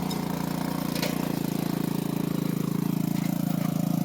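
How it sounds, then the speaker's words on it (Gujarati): A jugaad mini tractor built on a motorcycle engine (bike santo) runs steadily through a cotton field, its small engine chugging in a fast, even putter close by, with no talk over it. "તેમાં આપણો બાઇક સેનડો હાલે છે. તો જોવો કે કેવી રીતના હાલે છે"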